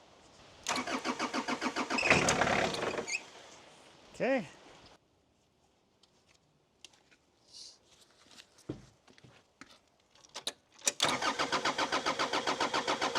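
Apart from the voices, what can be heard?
Vermeer S800TX mini skid steer engine cranking and starting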